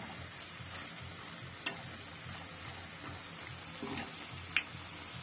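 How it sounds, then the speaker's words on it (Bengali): Cabbage pakoras fry in hot oil with a quiet, steady sizzling hiss, broken by a few faint ticks and pops. "আর এক পিসটা ভালোভাবে ভাজা হয়ে গেলে দুটো উল্টে পেল্টে ঠিক আগেটার মতন ভেজে নেব"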